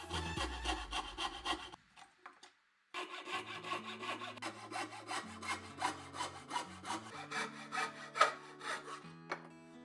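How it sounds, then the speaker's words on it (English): A coping saw cuts a curved line through plywood in quick, rhythmic back-and-forth rasping strokes, close and clear, with a brief pause before the sawing resumes steadily. "cut it out using the coping saw"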